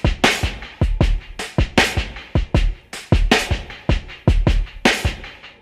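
Drum sample sequence programmed on an Akai MPC, a basic looping beat of punchy kicks, snappy hits and bright cymbal-like strikes in a steady rhythm, close and fairly loud.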